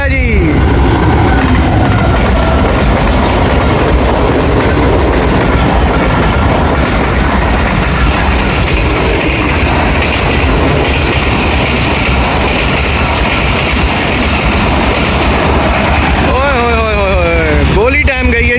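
The Queen of Rawalpindi 8 Down express passenger train, led by a GU40 locomotive, thunders past at speed with a loud, continuous rumble and rail clatter, and wheels squeal near the end while a voice talks over it.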